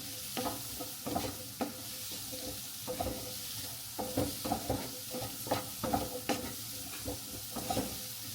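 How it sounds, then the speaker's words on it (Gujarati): Onion, broccoli and red and green capsicum sautéed together over full gas flame, with a steady sizzle broken by repeated scraping stirs of the spoon through the pan, close and fairly loud, no talking. "આપણે બધું જ એક સાથે જ એડ કરી દઈશું ને એને એકદમ ફૂલ ગેસ પર જ આપણે સોટે કરીશું."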